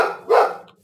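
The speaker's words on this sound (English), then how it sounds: "No, stop it! Stop barking!" A single dog bark from the video game Minecraft during survival games, one short, loud, close yelp with no talk.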